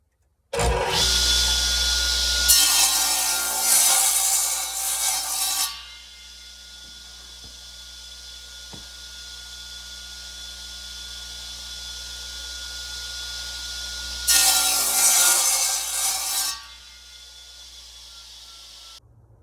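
A saw cuts sapele wood into square sections in two loud bursts a few seconds long, separated by a quieter stretch of motor hum.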